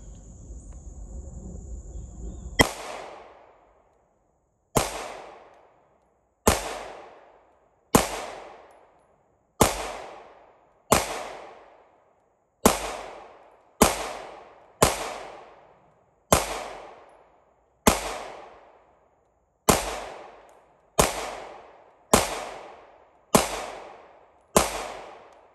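Shots from a Shadow Systems DR920 Elite pistol on a range: about fifteen loud, sharp reports fired one at a time in a slow, fairly steady rhythm, each with a short decay, with no talk.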